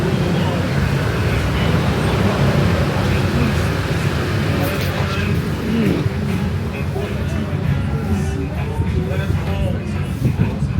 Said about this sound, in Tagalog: Traffic now.